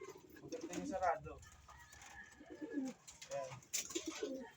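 Pigeons in a loft coo in low, throaty bursts while they wait to be fed, close by and repeating throughout. Someone talks over them now and then.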